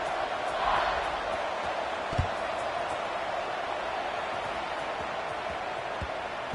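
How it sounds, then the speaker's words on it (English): Stadium crowd in the NCAA football video game buzzes after a score, a dense, even murmur heard from within the stands at moderate level, with a couple of faint thumps and a brief swell near the start. "this crowd is buzzing after that last score."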